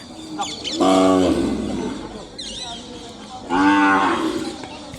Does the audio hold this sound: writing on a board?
no